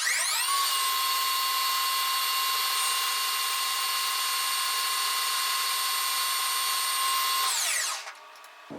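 A metal lathe running at 1200 RPM with a 4 thou per revolution feed takes a 10 thou cut using a brazed carbide tool, producing a steady, loud, high-pitched whine that spins down abruptly at the end, with no talking.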